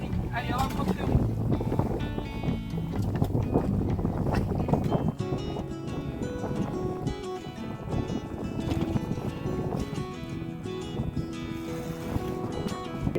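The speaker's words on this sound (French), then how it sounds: "Là il y a 20 nœuds de vent" Wind of about 20 knots at sea aboard a sailboat, a steady rushing and buffeting on the microphone mixed with water and boat noise, with tonal clatter in the second half.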